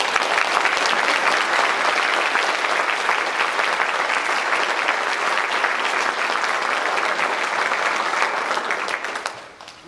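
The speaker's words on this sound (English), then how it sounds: "Let us applaud our confirmation students." Steady applause from a church congregation at a confirmation service, loud and continuous for several seconds before fading out at the end.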